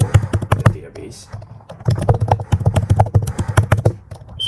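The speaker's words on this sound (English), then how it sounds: "So I will type my password for the database." Rapid keystrokes on a computer keyboard as a password is typed, a close, dense run of clicky taps with brief pauses.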